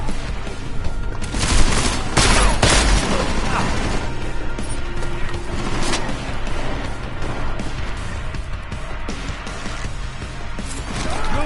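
Gunfire crackles through a firefight in the Deus Ex video game, with dense overlapping shots and impacts over a loud, continuous game soundscape, accompanied by a sharp cluster of louder blasts early on.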